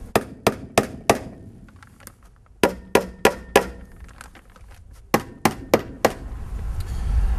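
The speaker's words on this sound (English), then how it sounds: "We're going to nail the roofing nails in the rest of the way." Sharp hammer blows drive roofing nails on a high tunnel sidewall in three quick bursts of four strikes each, ringing and close, with quiet pauses between the sets.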